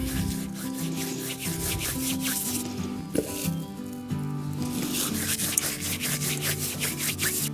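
Homemade dried basil is rubbed firmly between the hands, producing a steady, close, dry crumbling rustle that continues without pause and without talking.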